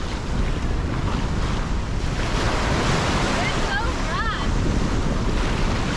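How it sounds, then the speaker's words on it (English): Ocean surf rolls and crashes steadily at Baththalangunduwa, a fishing island in Sri Lanka. The waves are loud and continuous, with wind buffeting the microphone and no clear talk. "I like that that there's a lot of waves here."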